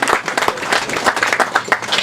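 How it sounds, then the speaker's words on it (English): A short burst of audience clapping and cheering at a live club show at Bakers, loud and close with uneven, overlapping claps. "Ernie, let's give him a round of applause."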